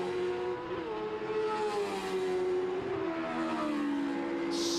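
A single-seater race car during a Monoposto race, its engine holding a steady high whine that shifts pitch as it runs, close and loud throughout with no voices over it.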